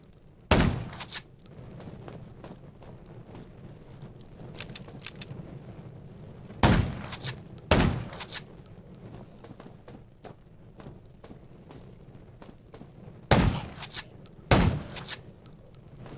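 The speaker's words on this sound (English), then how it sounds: "Gunshots will attract more." Sharp gunshots in the zombie survival video game Undawn, fired in pairs at three moments, loud bursts over a steady low game ambience with no talk.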